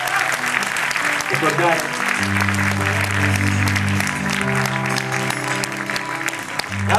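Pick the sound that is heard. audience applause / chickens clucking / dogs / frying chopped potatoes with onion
audience applause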